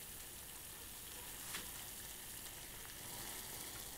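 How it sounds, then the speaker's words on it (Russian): A pot of water bubbles and hisses steadily at a low, even level, a soft continuous simmer close by. "Вот кипит наша водичка."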